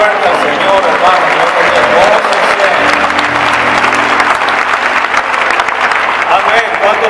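A church congregation in Rosarito claps loudly for the Lord, dense sustained applause filling the whole stretch with a murmur of voices mixed in.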